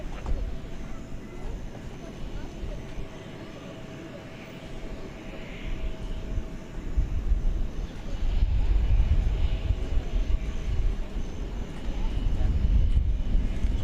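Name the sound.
airplane departing, flight to Barcelona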